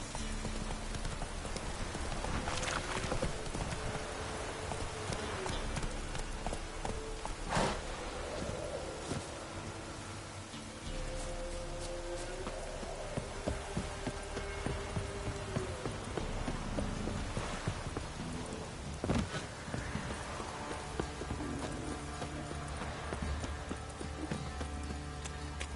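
Horse galloping in the video game Witcher 3, with steady rapid hoofbeats running the whole time over a dense game soundscape of wind and ambience, no talking.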